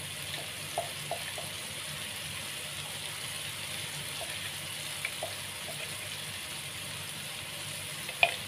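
Ground spice paste sautéing in a pan for a mushroom and potato rendang, giving a steady quiet hiss with a few soft clicks and taps scattered through it and one sharper tap near the end.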